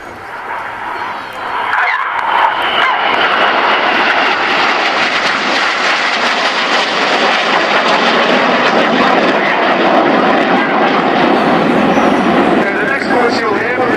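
Red Arrows jets roar loudly overhead at an air day display, a sustained broadband engine rush after a brief quieter start, with a person talking over it.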